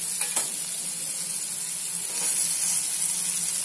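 Chana leaves tipped into onions frying in a pan, giving a steady close sizzle and crackle that holds throughout with no talking.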